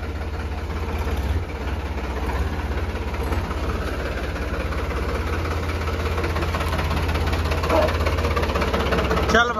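A tractor engine idling, a steady heavy low rumble with a knocking pulse, close and loud, while people talk over it.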